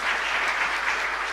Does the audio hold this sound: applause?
yes